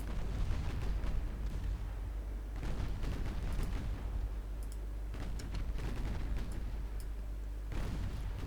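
Naval guns firing in a 1944 battle in Ultimate Admiral Dreadnoughts, heavy guns alongside 7-inch and 4-inch guns, a dense, rumbling run of booms and dull thuds over a constant low roar, with faint clicks on top.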